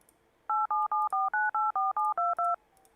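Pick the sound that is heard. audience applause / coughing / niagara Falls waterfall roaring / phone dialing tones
phone dialing tones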